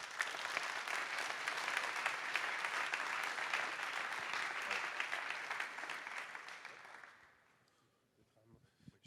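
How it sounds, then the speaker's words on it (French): An audience at a formal signing event claps steadily in a dense, sustained round of applause that fades out toward the end and leaves near silence. "Et on peut les applaudir."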